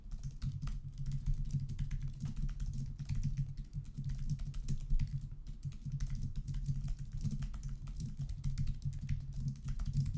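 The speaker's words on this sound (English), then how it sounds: "Thank God I can type very quickly" Fast keystrokes on a computer keyboard clatter nonstop and up close, a quick even patter over a constant low background hum.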